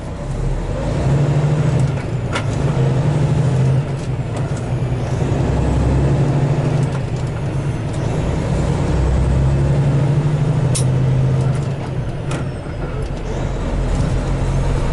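A truck engine drones loud and steady while the driver shifts from fourth to sixth gear on flat, level ground with a light load, with the pitch dipping and rising around the shift and occasional faint knocks.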